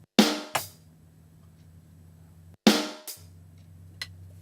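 Drum kit plays two notes of a beat: a sharp hit with both hands together, a closed hi-hat tick, then a low sustained ring, the pair repeated twice, close and alone.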